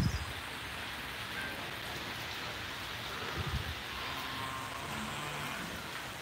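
Steady rain falls outside a goat shed, a constant close hiss of drops on surfaces with a few louder patters, no voices.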